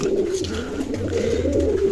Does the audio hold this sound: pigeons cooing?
yes